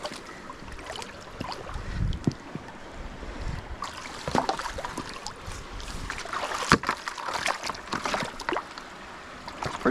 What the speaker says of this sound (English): Pretty good flow to this creek too.